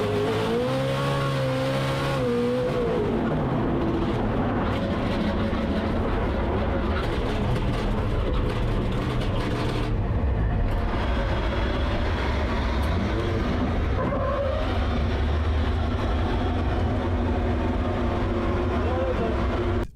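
A Formula Drift car's engine roars continuously during a media-day practice run, loud and sustained with rising and falling revs, while voices talk over it.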